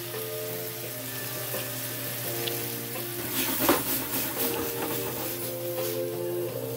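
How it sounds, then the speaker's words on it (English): Sliced peppers fry and sizzle in a hot pan for a spicy BBQ steak chow mein with beef, a steady close crackle with a faint stirring scrape and a soft tonal hum underneath. "we're going to cook this until the peppers are tender"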